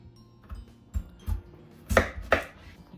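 A knife cuts through unpeeled, washed potatoes on a board in a home kitchen, giving a handful of separate soft chops that end with two sharper, louder strokes, quiet and close with no talk.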